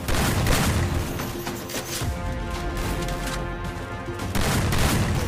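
Gunfire in the Free Fire battle game pops in quick dense bursts at the start and end, with a continuous busy rumble of game action in between, loud and steady throughout.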